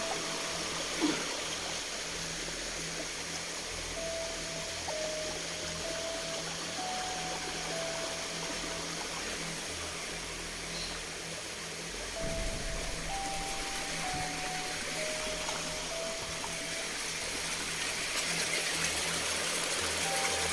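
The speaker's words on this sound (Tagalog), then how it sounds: "sobrang lakas ng tubig" A strong river rushes nearby with a steady, dense wash of flowing water, and faint tonal sounds drift over it at intervals.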